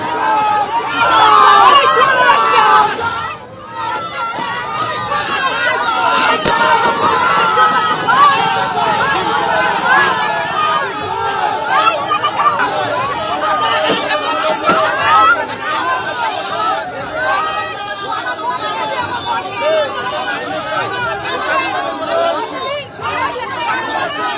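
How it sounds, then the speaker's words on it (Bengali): A street crowd jeers and shouts slogans of "thief" at an arrested ex-councillor being led from a police station to court, a loud, continuous babble of many voices with some excited calls, close and chaotic. "থানা থেকে আদালতে নিয়ে যাওয়ার সময় উঠল চোর স্লোগান, উড়ে এলো ডিম"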